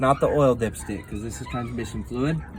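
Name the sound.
dogs barking in the background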